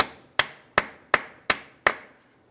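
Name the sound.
hammer and punch striking axle center to free nut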